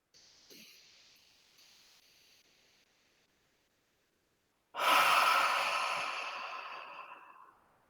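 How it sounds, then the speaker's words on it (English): Forceful breath out during an energy clearing meditation: after a few seconds of faint near-silence, a sudden loud, airy exhale swells in and trails off over about three seconds, close to the microphone. "as you're breathing out, allow yourself to blow the air out or make a noise"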